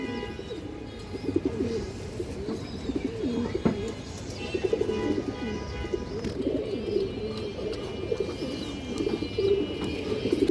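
A single male pigeon coos steadily in low throaty rolls, close and continuous, with faint background noise and no talk.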